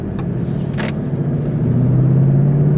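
A 2013 Ford Mustang GT CS with a 5-liter 32-valve V8 running, a loud close low rumble that deepens and swells steadily toward the end as the engine note rises.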